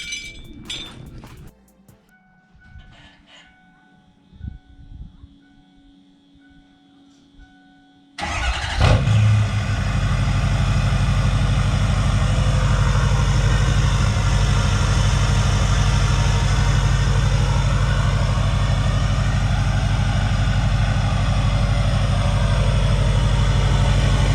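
After quiet clinking and shuffling, a 6.4 Powerstroke diesel pickup engine with a 5-inch straight-pipe exhaust cranks and fires, then settles into a loud, deep, rumbling idle.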